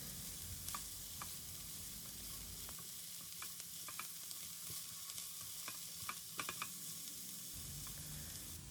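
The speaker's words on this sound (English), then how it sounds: "On medium flame, we will stir the broccoli florets for a few seconds." Steamed broccoli florets stirred in a pan over a medium flame, a soft steady sizzle with scattered light clicks and scrapes of the spoon, fairly quiet and close, no talking.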